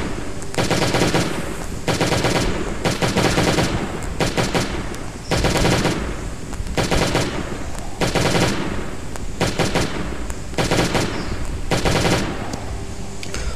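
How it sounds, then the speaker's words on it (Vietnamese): Bursts of automatic gunfire from a weapon in the survival video game Last Day on Earth, loud rapid volleys repeating in short strings separated by brief pauses, with no voice over them. "Toàn hụt thôi các bạn ạ. Khẩu súng này không tốt tí nào."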